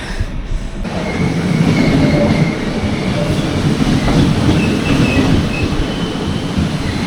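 A train rolls loudly through Ulm railway station in Germany, a close, continuous rumble with clattering wheels and faint high squeals, steady throughout with no talk.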